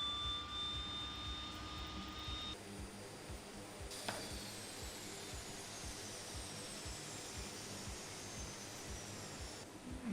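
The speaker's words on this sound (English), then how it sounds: "Let's start the right engine now." Right turboprop engine of a Twin Otter spooling up during startup in MSFS 2020, a steady, loud whine and roar that rises in pitch and holds throughout, heard alone.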